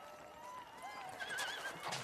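A horse whinnies in a long, wavering neigh at moderate distance, with faint hoof sounds from a rider trotting it.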